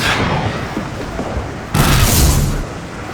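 A single heavy gunshot fires in the middle of a combat firefight in The Bureau: XCOM Declassified, a loud broadband boom bursting over a steady rumbling battle din and fading after about a second.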